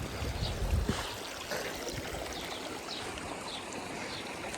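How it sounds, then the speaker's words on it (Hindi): Water running steadily along a village irrigation channel that winds through fields high in the Spiti Valley, a continuous close burble with a low rumble near the start. "ये नाली जो है ये इधर पूरे गांव के खेतों से होती होती फिर नदी में चली जाती है"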